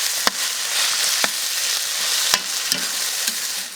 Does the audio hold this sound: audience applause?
no